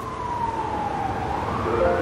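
Ambulance siren sound effect, a loud wailing tone sliding downward then rising again over low road rumble, close and continuous with no talking.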